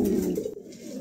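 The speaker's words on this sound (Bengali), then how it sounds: "চমৎকার এক জোড়া কবুতর" A pair of pigeons in a home loft, giving a close, low cooing call that fades after half a second, with no talk.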